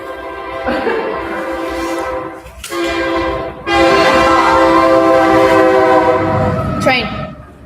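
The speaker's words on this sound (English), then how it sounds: "Train." A train passes nearby, its horn blaring in long sustained blasts that cut out and resume, over a steady rumble of rolling wheels, loud and close.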